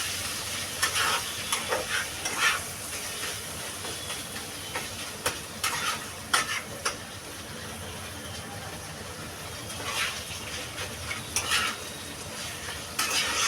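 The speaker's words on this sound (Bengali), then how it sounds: "এবার আমি ভালো করে মশলাটার সঙ্গে মাছটা ভালো করে ভেজে নেবো" Katla fish frying in spice paste for stuffed pointed gourd, a steady hissing sizzle with scattered scraping stirs and clinks, with no talk.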